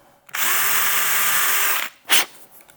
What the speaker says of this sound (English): The star and bamboo drill bit, as you can see, is excellent for drilling into leather